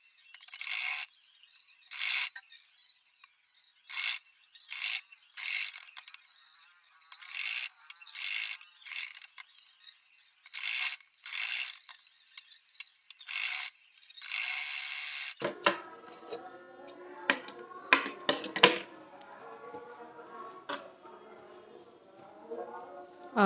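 A sewing machine stitches the finishing seam around a blouse neck, running in a dozen short close bursts with pauses between, then a denser stretch of clattering mechanical ticks toward the end.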